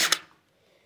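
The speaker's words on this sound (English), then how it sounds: "I'm just going to shoot over here in the dark" An airsoft gun fires in the dark, giving a single sharp close-up pop with a quick double-crack snap that dies away in a fraction of a second, alone and without voices.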